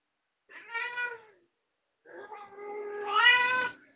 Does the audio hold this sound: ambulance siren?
no